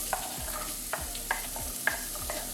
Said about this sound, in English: And now add my chopped onion